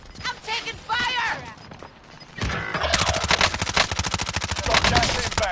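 Gunfire in the Call of Duty: Modern Warfare video game: a brief burst, then sustained rapid automatic fire rattling close and loud, with voices talking over it early on.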